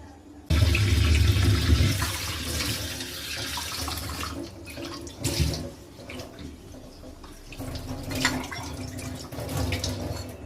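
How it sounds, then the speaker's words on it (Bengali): Tap water gushes loudly at first, then runs at a varying flow with splashing while turmeric stains are scrubbed and washed clean at home. "আজকে ধুয়ে পরিষ্কার করে ফেলি"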